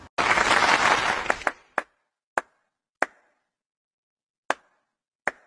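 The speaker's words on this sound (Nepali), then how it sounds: "Clap one more time." A roomful of people bursts into a dense round of hand clapping for about a second, then it breaks into a handful of sharp, isolated single claps spaced out over the next few seconds, with silence between them.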